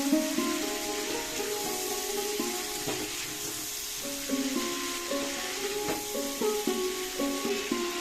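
Ginger and pumpkin sizzle in a hot pan while being stirred for Bengali kumror chokka. The frying hiss is steady, with scraping stir sounds and a faint tonal background and no talking.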